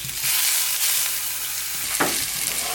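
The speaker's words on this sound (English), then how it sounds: "I'm going to sear the cabbages on both sides before I put them in the oven" Cabbage wedges sear in olive oil in a pan, giving a steady broadband sizzle throughout with a brief louder crackle near the end and no talking.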